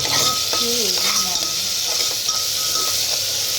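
Pulao being stirred in a pressure cooker with a ginger, garlic, green chilli and coriander paste, a steady close sizzle with scraping spoon strokes throughout, under faint background voices.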